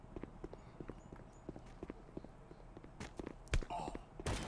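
Footsteps in the video game Guns of Boom thud as a run of quiet, irregular steps with clip-clop-like knocks, faint beneath game noise, closing with a couple of louder impacts.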